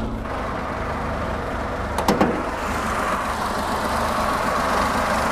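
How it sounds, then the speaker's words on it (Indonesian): A 2006 Chery QQ's 800cc four-cylinder engine idles steadily and smoothly under an open hood, a constant low hum with a couple of brief clicks partway through, no voices. "Suara mesinnya masih halus."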